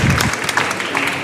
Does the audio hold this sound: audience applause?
yes